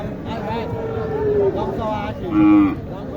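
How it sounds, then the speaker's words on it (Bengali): A Sahiwal bull calf at a cattle market moos in low drawn-out calls, a louder one near the end, with people talking around it. "চমৎকার একটি গরু"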